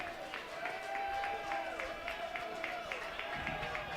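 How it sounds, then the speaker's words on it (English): A baseball crowd at a college game in Jacksonville claps and cheers excitedly, a steady roar of applause with whistles and tonal noise layered over it, loud and sustained. "The crowd is getting excited."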